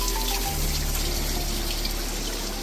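Fresh water spraying and splashing from a waterfall, a loud, steady rushing wash with a low hum underneath, close and continuous throughout.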